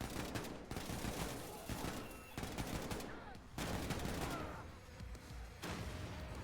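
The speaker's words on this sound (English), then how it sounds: "you can switch to the Kimbo assault rifles and just mow everyone down" Kampfpistole-style rapid assault rifle fire from Kimbo rifles in Wolfenstein 2 combat: sustained close bursts of automatic shots in several runs separated by short pauses, dense and loud.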